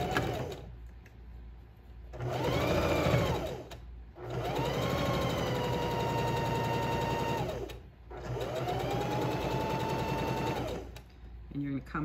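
Sewing machine stitching around a mitten from a newborn kit: three long runs of steady mechanical whirring and rapid needle chatter, close and fairly loud, separated by brief pauses.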